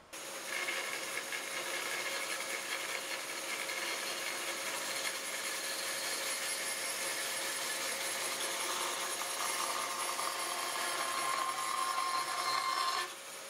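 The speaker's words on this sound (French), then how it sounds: "avec des scie cloches de différentes grandeurs, je vais me trouver à proportionner, là, selon les désirs, les trous que je vais faire dedans" Hole saw cutting into wood for a bench, a steady continuous grinding whir that holds at even loudness for the whole stretch, close and alone with no talk.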